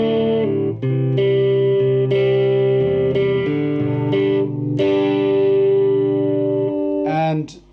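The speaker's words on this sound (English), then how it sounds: "I'm getting the distortion from that tube" Electric guitar played through a restored Decca RP 205 valve amplifier module with a single ELL80 push-pull output stage, giving sustained distorted chords and notes that ring on, loud and close, with a short strummed flourish at the end.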